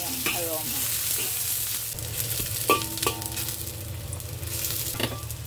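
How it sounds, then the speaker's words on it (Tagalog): Sardine and egg mixture for tortang sardinas frying in a pan, a constant close sizzle broken by a few sharp clinks of a utensil against the pan as it is stirred. "Haluin lang natin hanggang lumambot yung kanyang texture."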